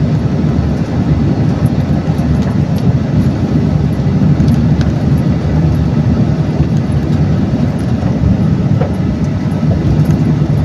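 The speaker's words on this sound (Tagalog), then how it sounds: "Bilis yung 6-wheeler ah." A six-wheeler diesel truck speeds past on a road in a steady, loud roar of engine and tire noise that stays close and continuous throughout, with no talking.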